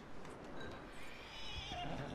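Horse neighing in a Wild West video game, a loud drawn-out whinny over busy game ambience, with hoof clip-clops mixed in.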